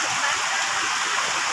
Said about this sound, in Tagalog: Grabing baha talaga, oh.